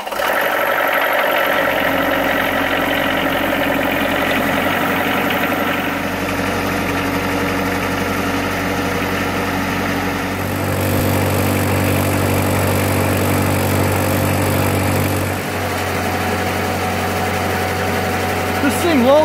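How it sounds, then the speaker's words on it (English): A 21-year-old Wood-Mizer Super Hydraulic sawmill with a 42 horsepower Kubota engine runs at a steady idle, a loud, close, continuous rumble with a slight shift in tone partway through. "This amazing machine is 21 years old, and it's got a 42 horsepower Kubota engine."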